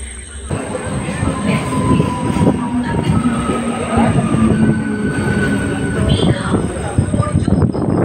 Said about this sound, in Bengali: ওদিকে ট্রেনের আওয়াজ পেয়ে গেছি